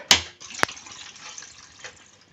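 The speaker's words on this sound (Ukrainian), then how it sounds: "Вода починає прибувати. Іде накачка системи. Тиск пішов." A hydrophore pump starts filling a private house's water system after a filter change: a sharp click and a brief knock, then a soft hiss and trickle of water rushing into the pipes, close and moderately loud.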